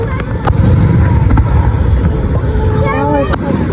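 Fourth of July fireworks burst outdoors with sharp cracks and rolling booms amid whistling streaks, while crowd noise and voices continue underneath.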